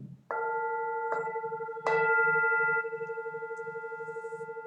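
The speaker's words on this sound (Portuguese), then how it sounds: "Vou tocar o sino no início, depois o sino no final" Meditation bell struck at the start of a practice session: a clear ringing tone, struck again twice, each strike leaving a long sustained, shimmering resonance that slowly decays under a low pulsing hum.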